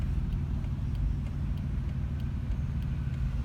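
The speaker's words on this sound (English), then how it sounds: "Man, this is some terrible traffic." Heavy rush-hour road traffic in Denver heard from inside a car, a steady low rumble of engines and tyres with muffled passing vehicles, continuous and fairly close, no talking.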